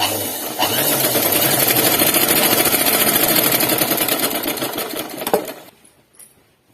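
A sewing machine runs in one loud, steady burst while stitching a collar-neck dress, its rapid mechanical chatter continuous for several seconds before slowing and stopping, followed by faint handling sounds.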